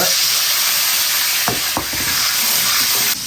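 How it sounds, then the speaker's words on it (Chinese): Garlic and seasoned sauce sizzling in a hot wok of oil, a steady loud hiss broken by a couple of sharp spatula scrapes and stirs, with the frying crackle running throughout and no speech. "油不热，下蒜，把蒜给它炒香，下入调好的料汁。"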